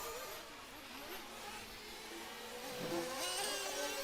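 A nitro RC racing buggy's engine whines and revs at a buggy championship final, a thin buzzing tone rising and falling in pitch at moderate distance, with a voice in the background.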